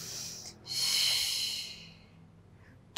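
A deep, close inhale through the nose during a Pilates hamstring stretch on the mat, a loud airy hiss of about a second following a shorter breath, then fading into quiet.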